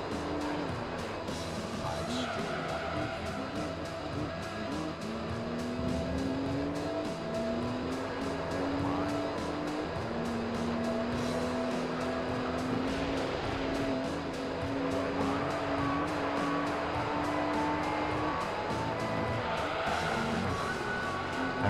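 Dodge Viper race car in Gran Turismo 3 on PlayStation 2, a loud continuous engine drone with rising and falling pitch as it shifts and revs through the corners, steady throughout.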